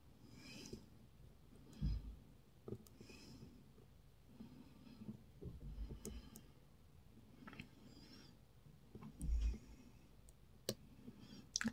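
Faint, sparse metallic clicks and small taps from picking a padlock pin by pin, close up and quiet, with soft handling noise between them.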